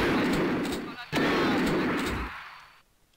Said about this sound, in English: Using my shotgun.